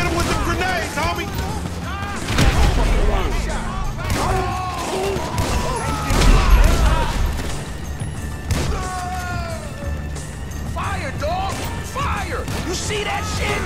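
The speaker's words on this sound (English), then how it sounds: "Hit him with the grenades, homie." In Grand Theft Auto V, a few heavy grenade blasts and scattered gunfire thump and crack under excited shouting voices, two deep booms standing out amid the chatter.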